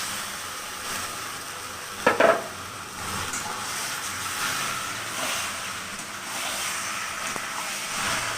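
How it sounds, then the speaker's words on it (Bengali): Mutton pieces go into a hot pan for a potato mutton curry with a brief clatter, then settle into a steady, moderate sizzle of frying meat that keeps on without voices. "এইবার আমি মাংসটা ছেড়ে দিচ্ছি"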